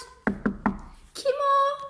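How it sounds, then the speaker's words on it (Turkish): Three sharp, evenly spaced knocks on a door at close range, followed by a bright, sustained tone, in a children's fairy-tale setting of a fox knocking at a rabbit's house. "Oradan geçen bir tilki kokulara dayanamayıp kapıyı çalmış"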